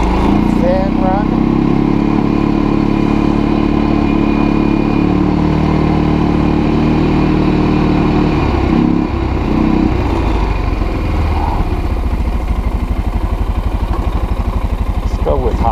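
A warmed-up Kazuma Jaguar 500 4x4 ATV engine runs steadily and is revved, with a loud, continuous mid-pitched drone that lasts throughout and changes pitch around the middle, while a person talks over it.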